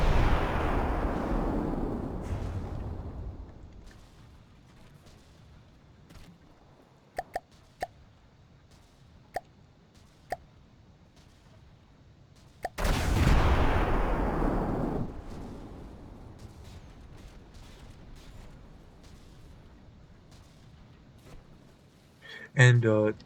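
A naval gun firing at a steep angle in a naval battle game: two heavy, rumbling booms several seconds apart, each trailing off, with sharp clicks in the gap and a brief burst at the end.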